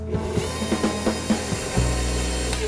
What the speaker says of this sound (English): just as the flour is incorporated, we can take it off the mixer